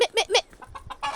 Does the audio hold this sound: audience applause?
no